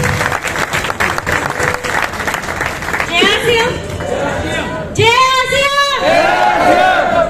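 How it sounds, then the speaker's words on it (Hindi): Loud applause from a seminar audience in Gurugram, dense clapping and cheering that swells at the start. Voices shout over it partway through, and a second burst of cheering and clapping comes near the end. "एक बार जोरदार तालियां"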